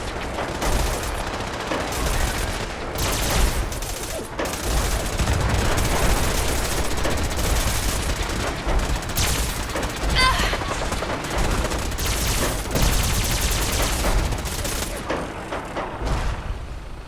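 Continuous gunfire from a Fallout 4 battle against synths, with bursts of automatic fire and shots layered densely throughout, loud and close, while characters shout combat lines over the shooting.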